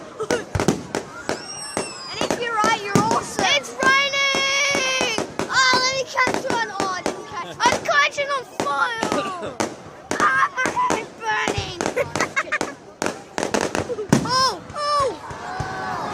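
Fireworks popping and banging outdoors at a seagulls display in the rain, sharp repeated cracks and pops scattered throughout, with children and adults talking and exclaiming over them.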